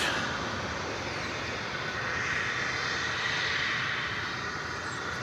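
A steady, broad roar from an airplane arriving at DFW airport, fairly faint and distant, holding a constant engine rush throughout with no talk.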